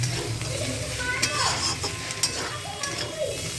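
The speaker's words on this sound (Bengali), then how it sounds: "বেশি করে কাঁচা লঙ্কা পেঁয়াজ দিয়ে আলুগুলোকে ভেজেছি" Potatoes fry in a pan with green chillies and onion with a steady sizzle, broken by repeated scraping strokes of a stirring spatula.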